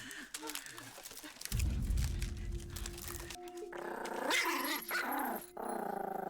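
A dog growls and barks in the TV drama Sweet Home: a low, sustained rumbling growl, then sharp barks and snarls up close, with people talking in between.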